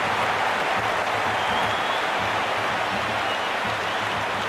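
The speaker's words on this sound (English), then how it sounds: "all these spectators here today are completely enthralled and energised, judging by that noise anyway" Stadium crowd roar from the Cricket 26 video game during an India vs Pakistan T20 match, a steady, dense wash of cheering spectators that holds loud and unbroken throughout.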